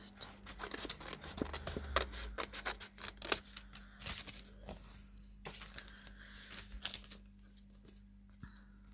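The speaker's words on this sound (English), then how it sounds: "I'll just cut a wider shape first." Scissors snip and rustle steadily through paper while a wider shape is cut for a wood slice craft, soft and close with a low steady hum underneath.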